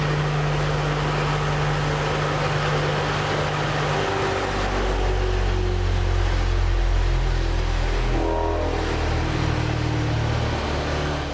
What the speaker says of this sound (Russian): когда этот мотор работает с дробью